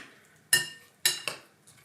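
A spoon knocks against a bowl while passion fruit and other ingredients are mixed, giving three or four sharp, close clinks about half a second apart.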